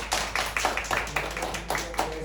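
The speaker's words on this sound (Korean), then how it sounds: "우리 박수로 격려해 주세요." A small youth-group congregation at a Korean church Sunday service claps in uneven, sparse bursts, fairly quiet and close, with a faint voice underneath.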